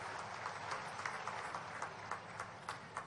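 Crowd applause at a public inauguration event for a new water park in Dhanpuri, Shahdol, a faint, distant, dense patter of clapping with uneven bursts.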